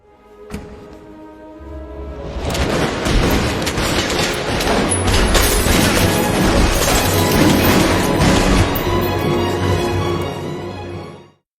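A loud, dense barrage of film gunfire and crashing impacts, continuous for several seconds before cutting off abruptly.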